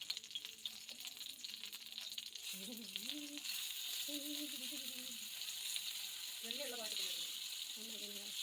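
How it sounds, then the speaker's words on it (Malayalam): Fish frying in a pan on a village kitchen stove gives a steady, bright sizzle throughout, while a voice speaks intermittently over it. "മറ്റേ അടുപ്പിൽ നമ്മൾ മീൻ വറുക്കാനായിട്ടും വെച്ചിട്ടുണ്ട്"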